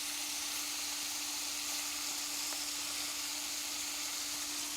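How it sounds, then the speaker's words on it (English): A big piece of lamb shoulder sears in a very hot pan with a loud, dense, unbroken sizzle and a faint steady hum underneath; no one talks. "into a nice hot pan goes a big old piece of lamb. You want to give it a good aggressive sear"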